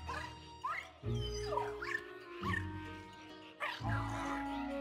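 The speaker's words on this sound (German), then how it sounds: "Verfressener Köter." A dog in the video game Luigi's Mansion 3 gives several short yips and barks in quick bursts over a low, looping game soundtrack, fairly faint overall.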